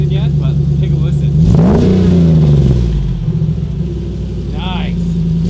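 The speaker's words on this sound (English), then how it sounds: "Actually, if you want to just rev it for a sec." A Jeep Wrangler with a Hemi V8 revs through a 24-inch Borla exhaust with no resonator, rising sharply to a loud blip and settling back into a deep, rumbling idle close by.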